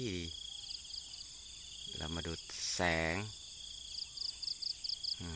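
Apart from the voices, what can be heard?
crickets chirping and birds singing in morning rice field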